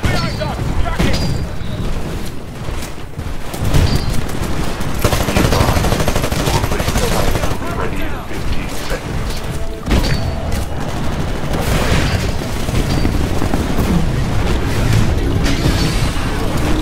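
Smart pistol gunfire in a Titanfall beta match, rapid loud shots cracking over a dense, continuous game mix of booms and battle noise, with a player's voice talking over it at times.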